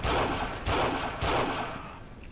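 Heavy gunfire from the Forgotten Hope 2 game: a dense, loud fusillade with two sharper bursts standing out, then fading slightly toward the end, with no talk over it.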